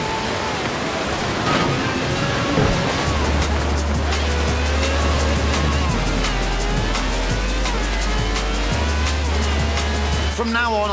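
A V12 car of over 750 horsepower in Forza Horizon 4 drives with a loud, steady engine drone that shifts pitch between gears, layered with tire noise and game sounds.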